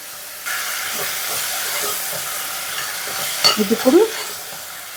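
Chopped tomatoes go into a hot frying pan for a prawn curry with a steady sizzling hiss, then a few sharper clatters of stirring. A voice speaks briefly over it.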